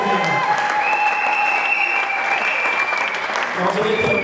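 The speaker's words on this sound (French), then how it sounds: "Acclamons le Seigneur." A church congregation applauds and acclaims the Lord, with loud, sustained clapping filling the room and voices rising and calling out underneath.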